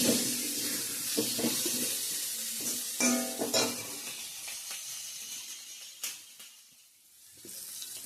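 Boal fish sizzles and fries in a pan with turmeric and salt while a utensil stirs and scrapes it in irregular bursts, close and fairly loud, with a few sharper clatters and no speech.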